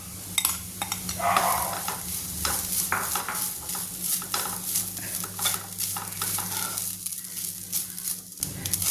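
Grated coconut stirred into a ragi mixture in a pan, with steady scraping and sizzling strokes running throughout and no talk.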